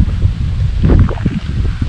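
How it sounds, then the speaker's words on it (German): Strong gusty wind roars and buffets the microphone, a low rumbling rush that swells and dips with no voices. "Jetzt wird's ganz schön windig."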